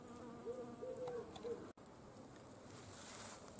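Honeybees buzz around a long-flowering garden plant in summer. The faint, wavering hum rises and falls over a soft outdoor background, broken by a brief dropout midway, with no talking.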